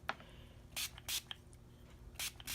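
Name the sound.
spray bottle spraying water onto inked paper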